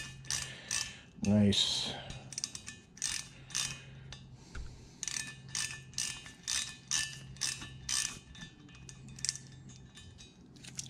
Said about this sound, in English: that extractor fit into a 1/4 inch socket on a 1/4 inch ratchet